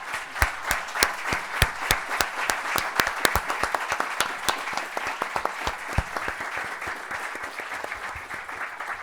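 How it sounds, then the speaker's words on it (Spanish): An audience applauds steadily, with many sharp individual claps standing out, sustained for several seconds without talking. "creo que debemos dar un gran aplauso y un gran agradecimiento a ambos por su presencia"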